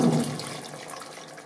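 A glass of water poured into a pressure cooker holding mutton biryani, a brief splashing gush that quickly fades to a soft trickle, close and alone.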